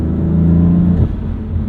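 A 2016 BMW M3 engine growls loudly under acceleration in a higher gear, a steady deep harmonic drone that climbs slightly in pitch before shifting character about a second in, with no voices over it.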